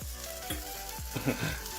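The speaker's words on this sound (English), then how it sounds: "Boiling waters." A pot of water boils for Nissan Dandan noodles, a close, continuous bubbling and sizzling with repeated low pops and gurgles in a kitchen.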